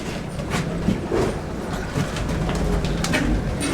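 Young racing pigeons in a loft coo and shuffle in a dense, continuous murmur with a steady rumbling background, fairly loud and close, with no voices.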